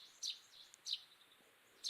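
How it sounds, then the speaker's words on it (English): Bird chirps in a video game sound as three short, high, bright tweets spaced apart, fairly faint over a quiet, airy background. "I could hear a bird chirp and the sound of Isora restlessly running around."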